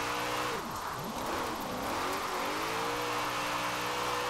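An upgraded drift build car in Forza Horizon 4 revs hard, its engine pitch swooping down and climbing again through the gears in a loud, continuous drone with no talking.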